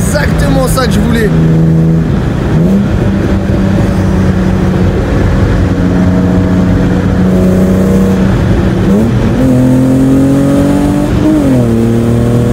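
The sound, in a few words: BMW E30 six-cylinder engine revving with Supersprint exhaust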